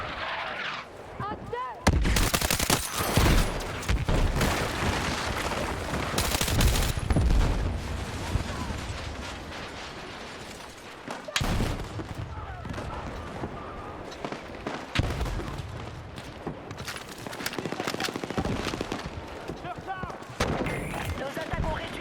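Gunfire and explosions in the video game Battlefield 6, with heavy bursts of shots and booming blasts in dense clusters, loud and near, alternating with quieter stretches of background battle noise.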